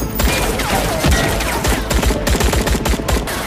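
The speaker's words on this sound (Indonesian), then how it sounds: "Spontan hal itu membuat Amartya marah dan langsung menghujani Viju dengan beberapa tembakan." Dense, rapid bursts of automatic gunfire with booming shots, loud and continuous, like a battle scene in an Indian film, with no talking.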